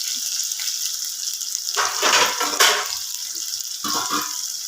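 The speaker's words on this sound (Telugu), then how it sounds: "జీలకర్ర వేసుకుని ఉల్లిపాయలు బాగా ఫ్రై అవుతుంది." Onions sizzling with cumin seeds in a hot pan, a steady bright frying hiss with louder bursts as the pan is stirred or the contents shift, close and continuous with no talk.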